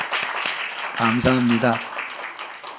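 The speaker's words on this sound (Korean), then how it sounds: "우리 인사하실 때 환영의 박수 한번 하도록 하겠습니다" A church congregation clapping in welcome for a bereaved family, a rippling patter of many hands with a short spoken thanks over the middle of it.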